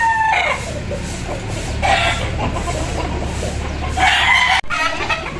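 Gamecock stags crow three times in close succession, each loud, ringing call standing alone against a quiet farmyard background.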